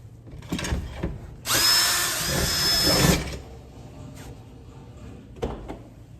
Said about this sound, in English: So continuing the drill bit all the way through